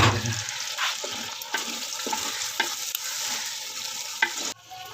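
Potatoes and carrots fry and sizzle in a pan of mixed vegetables, a steady close hiss with a few stirring scrapes and knocks, then the sound drops off sharply near the end.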